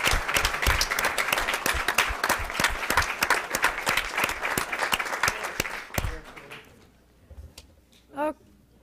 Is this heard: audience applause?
yes